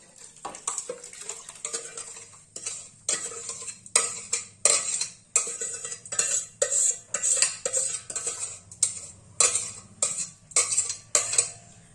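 A spoon stirs oil-free hot and sweet mango pickle, mango pieces tumbling into sugar syrup in a pot, with irregular close metallic clinks and scraping taps repeating steadily throughout.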